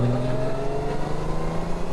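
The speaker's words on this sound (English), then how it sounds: "Oh, the sound of this engine." A Honda Goldwing 50th Anniversary touring motorcycle's engine hums steadily under way, a smooth, continuous drone heard from the rider's seat with no talking over it.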